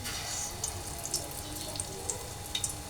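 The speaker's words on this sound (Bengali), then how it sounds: "এভাবেই ভেজে নেব।" Spiced prawns fry in a pan, a soft continuous sizzle broken by scattered small pops and crackles of hot oil, close by and fairly quiet, with no talking.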